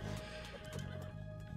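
A horse neighs as it is killed in the Age of Mythology video game, a close, loud whinny lasting over a second amid game sounds and faint clip-clop.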